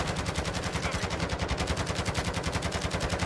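Sentry turret gunfire in the video game Modern Warfare 2: a steady stream of rapid automatic shots at an even, fast rhythm, loud and continuous throughout, with no talking.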